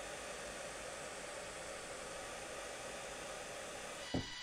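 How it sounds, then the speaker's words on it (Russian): Hair dryer blowing on a freshly painted homemade fishing float, a constant even whooshing drone that cuts off with a click near the end. "Сушу феном"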